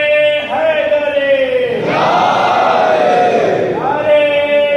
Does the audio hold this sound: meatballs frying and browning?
no